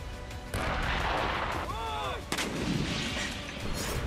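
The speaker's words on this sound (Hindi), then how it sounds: "टैंकों से गोले बरसाए जा रहे हैं।" Tanks fire shells in an artillery barrage, a heavy booming blast followed by rumbling, with a descending whistling streak and further booms, loud and layered under background noise.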